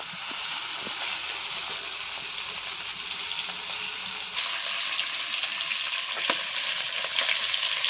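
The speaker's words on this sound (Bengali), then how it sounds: "তারপরে সুন্দর করে ভাজতে হবে" Koi, magur and shingi fish fry in hot oil with a loud, dense, continuous sizzle that grows a little stronger partway through, close up with occasional faint knocks of stirring.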